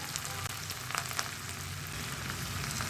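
Chopped ginger sizzles in hot oil in a pan while a millet pongal is being cooked, a steady close crackle and hiss with a few sharper pops, carrying on alone with no talking.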